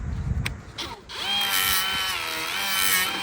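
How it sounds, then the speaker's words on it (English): A Roloc abrasive disc on a power tool grinds rust and coating from the headlight bracket of a 1973 Harley Sportster, a steady, close, loud high whine that starts after a second of handling noise and holds. "the first thing we're gonna do is hit this with a roll lock"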